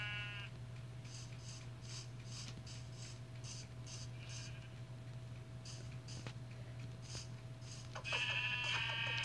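Several faint, wavering sheep bleats in Minecraft Pocket Edition come and go over a steady electronic hum, with a brighter bleat near the end.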